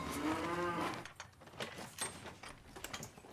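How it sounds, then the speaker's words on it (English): Enormous cattle, one of them pregnant, standing in a road: a deep drawn-out moo opens, then gives way to quieter shuffling and scattered knocks at moderate distance. "Can you get these cows out of the way?"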